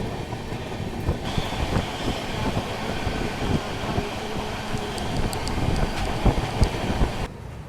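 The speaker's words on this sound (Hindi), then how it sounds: "पटना मोकामा जा रही है पैसेंजर ट्रेन।" A Patna to Mokama passenger train passing alongside, a loud rumbling clatter of wheels on rails with wind noise and rhythmic clicks, heard close from another moving train.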